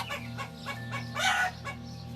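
Chickens cluck in a loose, irregular run while a rooster crows once near the middle, the farmyard sounds fairly faint over a steady low hum.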